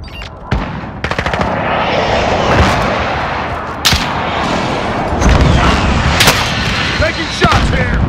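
Gunfire in Call of Duty: Modern Warfare: sharp close shots and a quick rattling burst crack over a steady roaring battle din, with more loud single reports and scattered bursts later.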